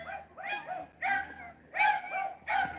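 Dogs indoors barking and yipping at someone next door, a few sharp, close bursts in a rough rhythm with short whiny gaps between them.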